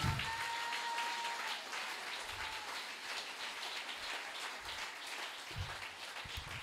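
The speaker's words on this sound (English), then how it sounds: "clap your hands for the glory of God" Congregation clapping at a joint church service, a steady wash of hand claps that sounds almost like rain, with a few low thumps and a faint sustained tone early on.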